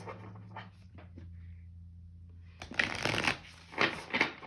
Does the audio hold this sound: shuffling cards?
yes